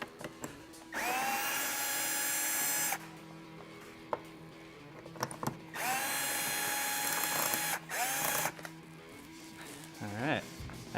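Power driver fitted with a Torx T30 bit backing out roof rack cover pins on a Land Cruiser 100 Series, two sustained whirring bursts of about two seconds each, close and loud, with quieter handling noises between.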